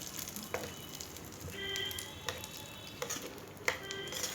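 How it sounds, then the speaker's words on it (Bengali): Sesame-topped chutney being stirred in a pan, quiet sizzling with soft scrapes and a few light clinks of the spoon against the pan, no talking. "এবার সুন্দর করে নাড়িয়ে নিতে হবে।"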